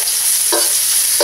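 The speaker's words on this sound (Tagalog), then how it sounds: "So, igisa na natin yung garlic" Garlic sautés in hot oil in a pan for a Filipino seafood paella, a steady bright sizzle holding throughout with a couple of short stirring scrapes breaking through.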